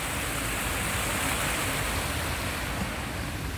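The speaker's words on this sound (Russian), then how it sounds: "Маленький водопад, но там столько лавок." A small waterfall near a river produces a steady, unbroken rush of falling water, loud and even throughout, with no voices.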